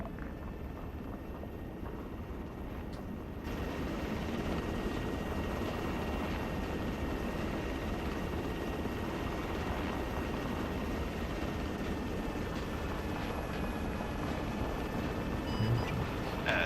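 A helicopter in the video game Arma 3 approaches to land, its rotor roar swelling abruptly to a loud, steady drone that holds for the rest of the stretch.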